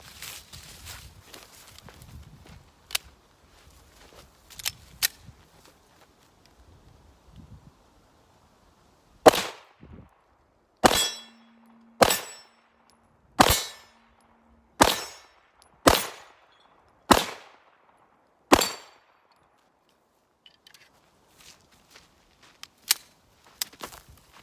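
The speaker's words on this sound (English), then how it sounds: "we're gonna be using this Kimber Rapide black ice. This one is in the 9mm. We're gonna be doing a couple of shots on the steel targets." Kimber Rapide Black Ice 9mm pistol fired at steel targets outdoors: about eight sharp shots in a steady, evenly spaced string, each followed by a ringing metallic clang, with quieter handling clicks and knocks before and after.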